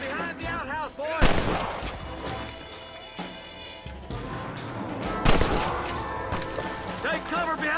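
Gunfire in a Red Dead Redemption shootout: several sharp loud shots and bursts ring out across the clip, with a voice talking and shouting between them over a busy game soundscape.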